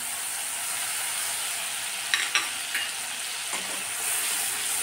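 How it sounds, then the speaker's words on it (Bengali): Tomato paste fries in oil with cumin, a steady close hiss and sizzle throughout, with a few light stirring clinks in the middle and no talking. "2 মিনিট মতন তেলে জিরে ভেজে নেওয়ার পরে এর মধ্যে দিয়ে দেব পেস্ট করে রাখা টমেটো।"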